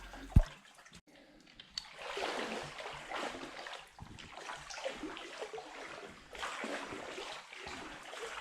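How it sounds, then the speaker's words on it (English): People wade waist deep through cold water in a slanted cave tunnel at Pagat Cave, producing soft, irregular sloshing and splashing, echoing faintly, with one sharp knock near the start. "To get into the second cave, we have to slide through a slanted tunnel, where we are soon waist deep in the cold water"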